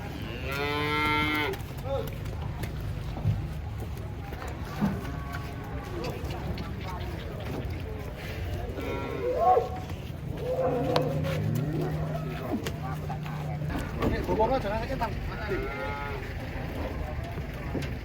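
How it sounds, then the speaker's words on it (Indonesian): Giant cattle moo several times, near and loud, among chatter and crowd noise at a livestock market, with a vehicle rumbling in the background. "Sapi raksasa. Jumbo sekali."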